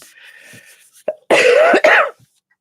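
A person coughs up close, one short hack followed by a longer burst of two or three harsh coughs with a throat-clearing edge, with brief faint sounds in between.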